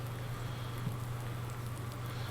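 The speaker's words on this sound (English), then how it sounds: "also today, it's raining for the first time since we did this" Rain falling in Farming Simulator 19, a steady, dense hiss of rainfall over a low constant hum that continues evenly throughout, with no voices.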